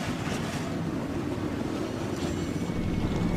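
Race car engines fire up at Bristol in an oval racing video game, producing a dense, steady roar from several cars with no talking.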